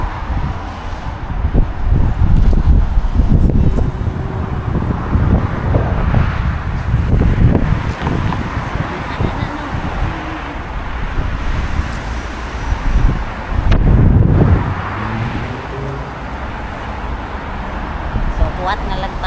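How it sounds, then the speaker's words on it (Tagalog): Strong wind buffeting the microphone outdoors near boats, a loud continuous rumbling roar with gusts swelling and easing throughout, while people talk over it. "Ugno kayo ang hangin guys"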